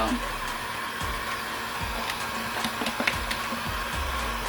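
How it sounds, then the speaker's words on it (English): A heat gun dries paint on a piece of furniture, a steady close blowing whir with a low hum running throughout, a few light clicks and knocks scattered over it. "I don't use a heat gun when I'm working on furniture and stuff like that"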